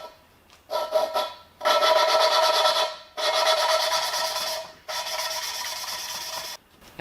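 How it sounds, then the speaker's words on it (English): Coarse lapping paste is rubbed by hand on an engine part of a Ford F350 V8 turbo. It makes three close, repeated gritty scraping strokes, each lasting over a second, and the grinding tone shifts as the strokes go on. "we just rub like this. Always keeping downward pressure. You'll actually hear the tone of it change."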